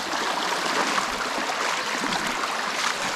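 Steady river water flowing in a remote Wisconsin wilderness setting, a continuous broadband rush and trickle close by, with no voices over it.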